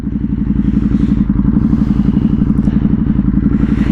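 A Ducati Hypermotard motorcycle being ridden, its engine a loud, close, continuous throbbing rumble with a rapid even pulse throughout.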